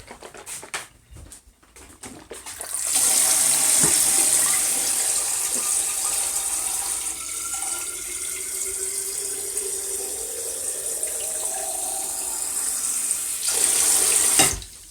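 Water runs steadily from a tap into a sink, a loud, close, continuous gush that starts after a couple of seconds of quieter handling and keeps flowing until it cuts off near the end.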